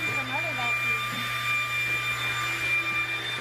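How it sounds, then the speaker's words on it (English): A high-powered vacuum cleaner runs with a steady loud whine and hum, holding constant tones throughout while voices talk over it. "So we got a high-powered vacuum cleaner, and Trent doesn't know how to act."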